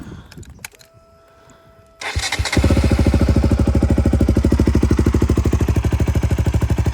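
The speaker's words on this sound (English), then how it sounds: "I'll show you what it sounds like with this straight through exhaust" A KTM Duke 200 motorcycle with a loud straight-through exhaust fires up after a few quiet seconds, then settles into a rapid, pulsing, throaty rev that stays close and loud.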